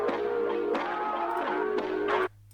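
Dark, gritty sampled melody, a dense looping synth-like tone with a few phrase changes and accents that cuts off abruptly near the end, leaving a low hum.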